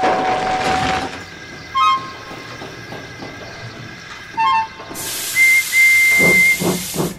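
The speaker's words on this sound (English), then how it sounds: "So once the whistle blew," A steam train's hissing steam fills the air, broken by short whistle toots, then a long, loud steam whistle blast cuts through near the end.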